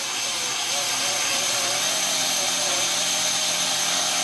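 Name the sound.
Kinkajou wet sander DC motor running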